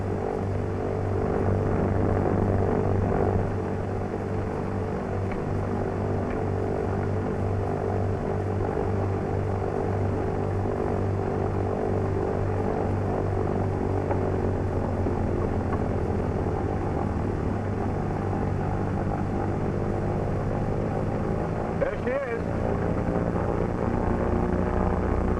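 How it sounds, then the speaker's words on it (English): In-flight cockpit drone of a C-47 Skytrain, a heavy steady propeller and engine roar with a pulsing throb, as one engine is cut and its propeller feathered, the tone shifting gradually. "you're cutting her again to show me that feathering a prop can be done in 20 seconds"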